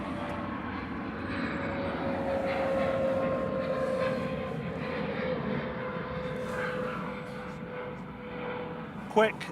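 A TUI airliner takes off from Manchester Airport at reduced power, a steady broad engine roar that holds level throughout and is fairly quiet, with a voice faintly present beneath it.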